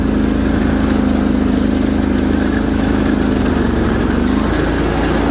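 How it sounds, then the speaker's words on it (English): A Bolens 1600 Hydro garden tractor with a 20 hp Briggs & Stratton V-twin runs steadily nearby, a loud, even low-pitched engine drone with a slight dip in pitch toward the end. "I decided to take out the old Bolens 1600 Hydro. It has a 20 horsepower Briggs V-twin"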